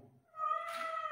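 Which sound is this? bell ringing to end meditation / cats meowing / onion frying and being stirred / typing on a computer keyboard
cats meowing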